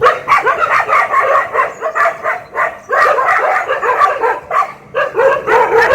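Several dogs bark close by in rapid, overlapping bursts, mixed with yips and whimpers, loud and nearly continuous with only short pauses.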